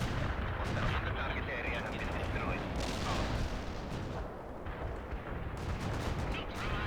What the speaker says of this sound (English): Let's just launch a barrage in that area.